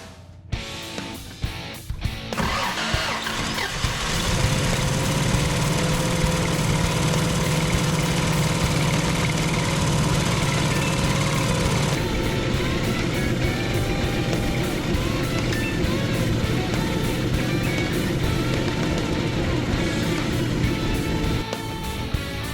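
Toyota Land Cruiser FJ60 engine, carburetor freshly rebuilt, cranks briefly and catches, then runs at a steady rough idle for the rest of the clip, close and loud.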